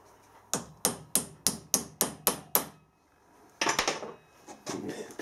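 Hammer blows punch a pin out of a vintage pulley: eight sharp, evenly spaced metallic strikes close by, then a pause and a looser clatter of metal parts.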